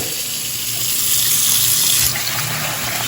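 A faucet runs hard and steady, water gushing and splashing loudly throughout with no voices.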